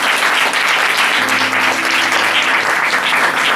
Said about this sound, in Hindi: ताली बजाएंगे परमेश्वर की महिमा के लिए।